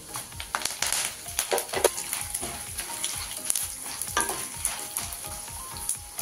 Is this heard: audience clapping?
no